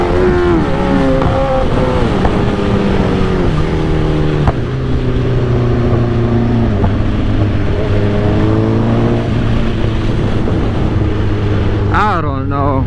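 A 2008 Suzuki GSX-R 1000 motorcycle with a bad clutch runs loud and close at low RPM, its steady engine drone shifting pitch a few times, with a brief rev near the end; someone talks over it.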